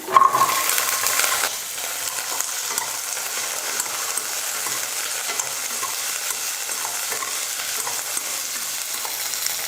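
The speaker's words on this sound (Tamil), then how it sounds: "சின்ன வெங்காயம், பூண்டு, இஞ்சி எல்லாம் நல்லா வதங்கிடுச்சு." Shallots, garlic and ginger sautéing in oil in a pan give a steady, close sizzle with light stirring scrapes, a little louder at first and then settling into a constant frying hiss.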